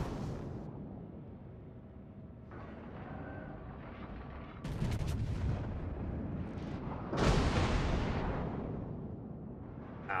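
Warship main guns fire in World of Warships, with heavy booming salvos arriving in several bursts, each followed by a rumbling tail, over a constant low background.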